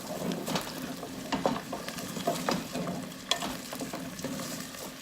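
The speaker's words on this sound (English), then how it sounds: "Now I'm gonna add the butternut squash, and I'll mix everything together." Butternut squash being stirred in a pot with rosemary, bay leaf and oregano, with irregular scraping strokes over a low, steady simmering sizzle, close and moderately loud.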